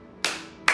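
Two crisp, close ritual kashiwade hand claps made with stretched-out hands, one sharp resonant clap followed by a second after a short pause, loud and alone in a quiet room.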